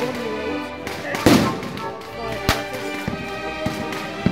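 Several sharp pops and bangs of fireworks go off at irregular intervals during a street festival in Elche, Spain, with a louder burst early on and fainter cracks after.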